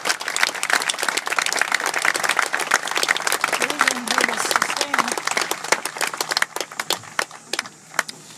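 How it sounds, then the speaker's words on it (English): An audience at a memorial field dedication breaks into sustained applause, dense clapping that carries on for several seconds before thinning out at the end. "Let's give them a round of applause."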